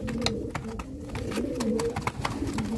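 Breeder pigeons, stock birds kept by a racing pigeon fancier, coo repeatedly in soft low throaty phrases nearby, with light rustling and a few clicks around them and no talking.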